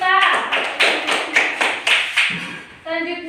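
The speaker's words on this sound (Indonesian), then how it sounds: "tepuk tangan" In a classroom, a small group claps in a few distinct, rhythmic bursts, with a voice heard at the start and again at the end.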